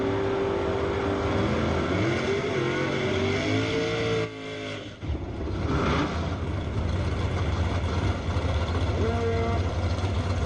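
Drag race cars, including an 88 Fox-body Mustang and a classic red Mustang, launch side by side down the strip in ET finals racing, a loud sustained engine roar with rising revs, a brief dip in the middle, then roaring on.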